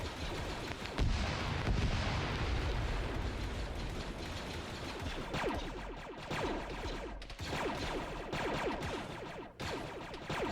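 A chaotic firefight in the Arma video game, with Clone troopers facing CIS forces, rattles with dense, continuous gunfire and heavy explosions, loud and layered over ten seconds with no voices.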